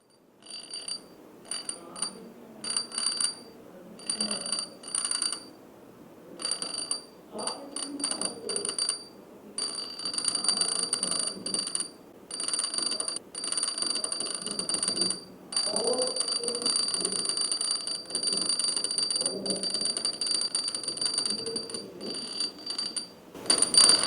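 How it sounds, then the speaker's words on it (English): A small electric bell driven by an electromagnet rings continuously in a bright metallic trill, broken by repeated short pauses, close and fairly loud. "Let me show you how this electric bell is working."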